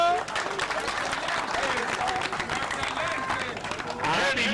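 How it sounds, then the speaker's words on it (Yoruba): An audience claps and applauds in a dense, continuous wash, with voices mixed into the crowd noise the whole time. "Ẹ pàtẹ́wọ́"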